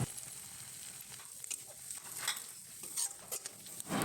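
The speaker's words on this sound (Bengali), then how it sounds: "সব কিছু দেওয়া হয়ে গেলে ভালো করে নাড়াচাড়া করে নিতে হবে।" Spices with bay leaves, grated ginger, cumin powder, red chilli powder and sugar being stirred in a pan for Bengali chana dal, giving soft scraping and a faint sizzle with scattered clinks of the spoon, no talk.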